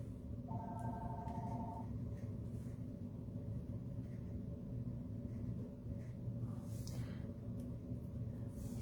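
A telephone rings briefly and faintly in the background of a home stamping craft studio, a short warbling ring near the start under a steady low rumble.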